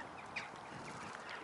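Ducks paddling in pairs out on the water give a few faint, distant quacks over a soft outdoor background.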